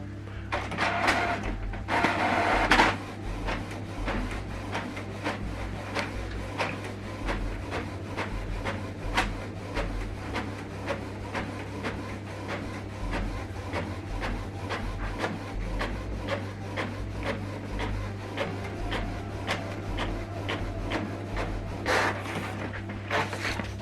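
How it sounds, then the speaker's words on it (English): Canon printer printing a document, a low steady mechanical hum with repeated clicking and ticking of the paper feed, a louder rattle near the start, no talk. "Now this document is printing."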